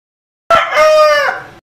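A rooster gives a single loud, close cock-a-doodle-doo lasting about a second, alone against silence.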